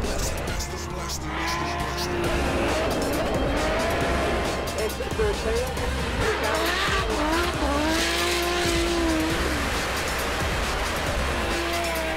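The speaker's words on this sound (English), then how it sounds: "I'm driving the S13 black silver car" A Nissan S13 drift car with a fully built 2530 turbo motor making about 340 kW at the wheels screams through an Australian Drifting GP round, engine wailing and tires squealing continuously, with someone talking over the loud track noise.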